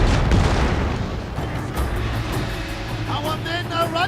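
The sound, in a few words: matchlock gunfire in Shogun 2 video game battle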